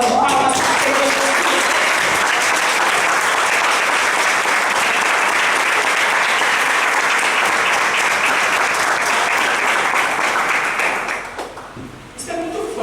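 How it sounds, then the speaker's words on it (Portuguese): Congregation in a church breaks into loud, sustained applause, dense clapping that fills almost the whole stretch before fading out near the end, with some voices mixed in. "Vamos dar uma forte salva de palmas para a Deus."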